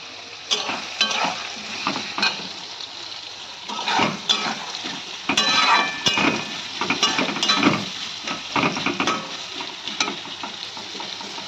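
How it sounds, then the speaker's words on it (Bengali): Sliced onions fry in oil in a kadai to make crisp birista for chicken biryani, a continuous sizzle broken by the scrape and clatter of repeated stirring. "এবার আমি পেঁয়াজ দিয়ে দিলাম বেরেস্তা করার জন্য"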